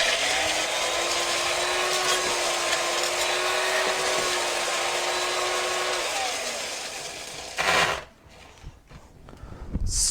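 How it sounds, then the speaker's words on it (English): An electric spindle blender whirs loudly and steadily for about seven seconds while mixing a cocktail with crushed ice, then winds down and stops. "And then we're just going to zap this under the spindle blender."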